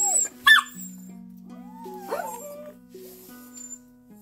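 Dogs being taken out for a walk, with sharp yips, whimpers and short barks over a steady low hum, some near and loud, others fainter, with no talk.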